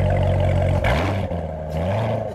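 A 2015 Chevrolet Corvette Z06 engine rumbles and roars close by with its exhaust opened, a deep exhaust note, the pitch rising and falling as it revs, no voices.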